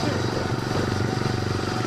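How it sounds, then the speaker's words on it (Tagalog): A tractor engine on a potato farm in the Czech Republic runs at a steady, throbbing rumble throughout, loud and close, with a continuous low chugging pulse. "Nakasakay kami sa traktora."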